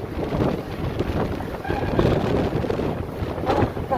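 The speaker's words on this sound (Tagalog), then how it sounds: "Ang lakas ng hangin guys" Strong typhoon wind, Signal No. 8 during Storm Kompasu, buffets the microphone in a loud, continuous roaring rush that swells and surges throughout, with no voices.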